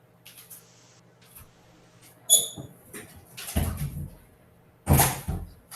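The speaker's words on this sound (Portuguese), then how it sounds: "Só um minutinho aqui, presidente, que eu vou fechar aqui a porta" A door being shut in an office during a virtual meeting: a few light handling clicks, then a sharp latch knock, a rattling scrape and a final firm thud, with no talk.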